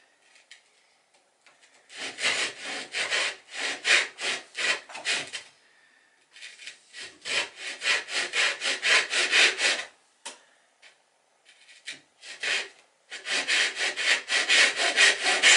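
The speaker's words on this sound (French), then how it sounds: "Vas-y, tu peux scier." A hand saw cuts through wood for a toy boat: close, loud rhythmic back-and-forth rasping strokes in several bursts separated by short pauses, with no talking.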